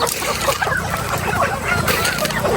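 A flock of chickens clucks busily while feeding on scattered corn, many overlapping short calls close by, steady and lively throughout.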